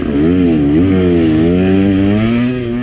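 A KTM 150 XC-W or Yamaha YZ250X dirt bike engine in second gear, buzzing loud and close as it slows out of a corner, its pitch dipping then rising again.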